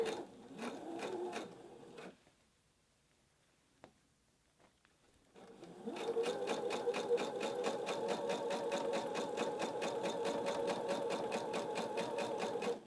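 A sewing machine stitches embroidery thread around a fabric applique, running in a short burst, pausing, then settling into a long steady, rapid mechanical rhythm, close and fairly loud.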